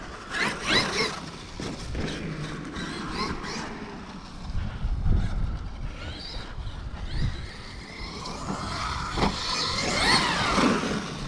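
A Traxxas X-Maxx RC truck drives about with a whining motor that rises and falls in bursts, heard at moderate distance with wind buffeting the microphone.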